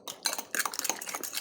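A spoon scrapes and clinks against a bowl while stirring homemade banana cake batter with butter, egg and banana, a quick series of light metallic taps and scrapes, close and alone.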